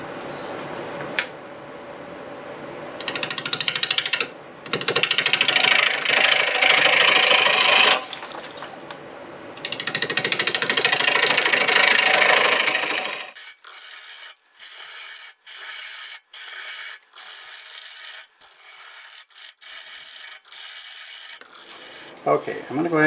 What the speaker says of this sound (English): I think I'll use my 1/2-inch bowl gouge to get started.